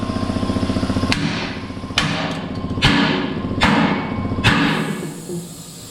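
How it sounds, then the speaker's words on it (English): Five sharp, loud hammer blows strike metal on a DIY off-grid camper build, trying to knock loose a partly cut piece, spaced roughly a second apart over a steady rhythmic idling engine. "We'll try hitting it with a hammer."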